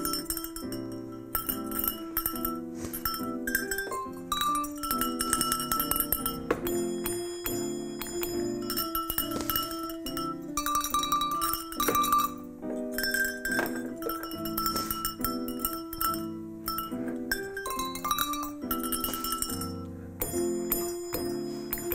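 Cowbells are rung in a quiet indoor setting, a series of metallic clanks and ringing tones struck one after another in an uneven rhythm, with clear ringing decay and no talk.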